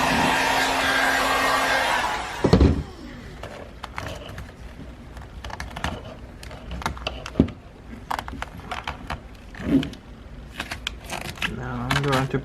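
Heat gun warming vinyl wrap on a car door handle: a steady blowing roar for about two seconds, then cutting off, followed by soft handling noises and scattered clicks.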